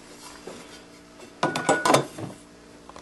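A metal dish plate for a DJ CD case mod is handled and set down, giving a brief cluster of light metallic clinks and rattles, close up, against a quiet room.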